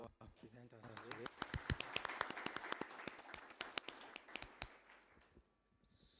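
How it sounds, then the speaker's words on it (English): An audience at a book launch applauds the presenters with a burst of scattered hand claps that thins out toward the end, with some voices underneath. "A round of applause for all our presenters today."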